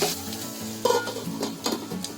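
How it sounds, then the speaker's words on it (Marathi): Okra frying in a pan sizzles steadily with light stirring and a few soft scrapes and knocks of a utensil, close and alone with no voices. "भेंडी चांगली आपल्याला आहे ना फ्राय करून घ्यायची आहे"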